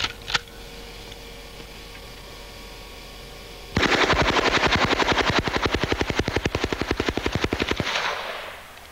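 A Calico M950 submachine gun fires a single sustained burst of rapid, evenly spaced loud shots lasting about four seconds. The burst follows a quiet stretch with a couple of faint clicks and ends with a brief fading echo.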